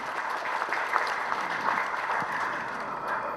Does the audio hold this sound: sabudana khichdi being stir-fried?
no